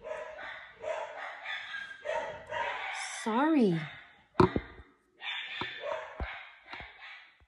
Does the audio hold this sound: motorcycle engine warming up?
no